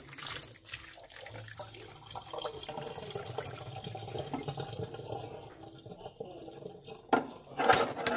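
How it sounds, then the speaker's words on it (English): Hot water from boiling eggs splashes out of a pot in a quiet, steady stream, ending with a couple of louder clatters and sloshes. "Pour the water out."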